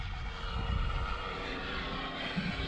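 RC model T-6A Texan II, a balsa Seagull Models airframe flown on 8S power, making a semi-dirty pass with full flaps down; a steady propeller and motor drone holds at moderate level throughout with no talk.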